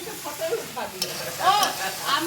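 Rice being fried in a pan for a family breakfast, sizzling steadily while a utensil stirs and scrapes it, close and fairly loud, with no talk.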